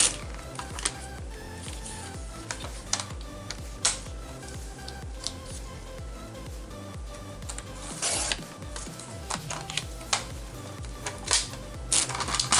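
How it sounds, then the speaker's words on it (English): Scrap paper being cut in half with scissors for a collage journal pocket, a run of close, crisp snipping and rustling clicks at an uneven rhythm, with no talking. "Actually, I'm going to cut this in half."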